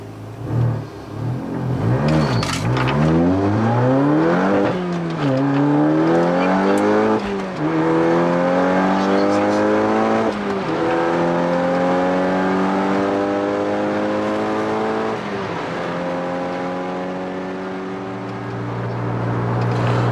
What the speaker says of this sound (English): So I'm going to do a soft launch and see what we can get.